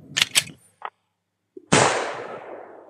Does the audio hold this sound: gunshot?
yes